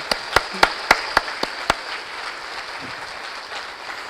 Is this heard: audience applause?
yes